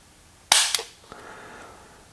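The trigger of a Volquartsen Mamba .22 pistol snaps sharply in a loud, close click with a quick second click. A faint tick and a low hum follow, with no talking.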